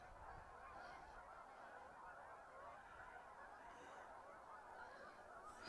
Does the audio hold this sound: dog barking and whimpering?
no